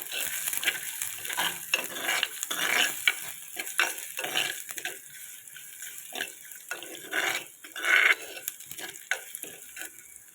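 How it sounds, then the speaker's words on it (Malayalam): Sliced garlic, about ten cloves, fries in a pan while being stirred, giving a steady crackling sizzle with irregular scraping strokes of the spoon throughout. "ഇനി നമുക്കതൊന്ന് ഇളക്കി കൊടുക്കാം."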